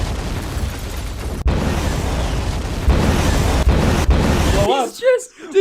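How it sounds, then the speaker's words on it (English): A repeated stock explosion effect rumbles loud and broadband for several seconds, with abrupt cuts between bursts, before giving way to a voice near the end. "Did he only download one explosion sound effect?"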